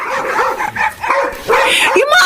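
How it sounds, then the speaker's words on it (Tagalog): Several dogs bark, yip and whimper in quick, uneven bursts for a radio drama sound effect, loud and close, with brief pauses between the outbursts. "Yung mga aso mo, tahol ng tahol!"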